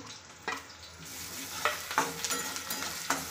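Green chillies stir-fried in a pan for anda bhurji, a continuous close sizzle punctuated by a few sharp spatula scrapes and taps, with no voices.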